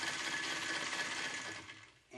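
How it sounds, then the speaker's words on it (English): A battery-powered electric motor in a Suzuki conversion, wired through an amp meter, whines with a steady high buzz that then fades out as it winds down. "With an amp meter in series with the motor to a battery, I'm going to just give it some power"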